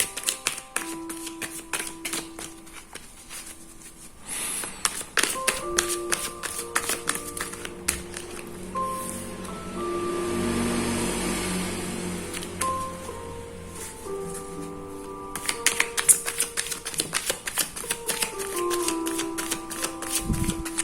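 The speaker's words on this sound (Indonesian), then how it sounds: "seperti biasa 5 kartu kita bakal ambil" Tarot cards are shuffled and drawn for a reading, with rapid crisp riffling and tapping that comes in bursts over about twenty seconds, a softer hiss in the middle, and no voices.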